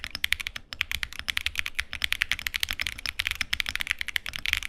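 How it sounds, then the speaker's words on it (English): Steady, rapid typing on a mechanical keyboard fitted with Salmon Tactile switches, dense muted keystroke clacks close up with no voices. "instead of making a clicky noise, they tend to sound more similar to these Salmon Tactiles."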